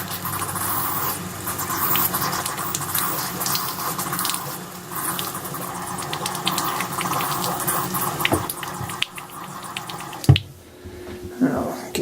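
Water and trapped air sputter unevenly from taps while RV plumbing is winterized, with bursts, hiss and gurgling close by, and a sharp clatter near the end.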